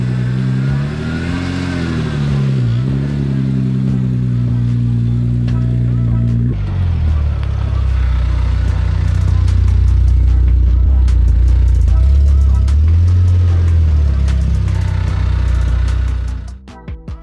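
An Audi S4 engine idles and then revs loudly up close as the car is moved in a tight garage, a deep, steady rumble with rising revs, ending abruptly with a few clicks.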